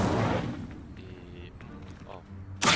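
An Incendio fire spell cast in Hogwarts Legacy, a whooshing fiery burst at the start that fades into low rumbles, then another sharp loud blast at the end.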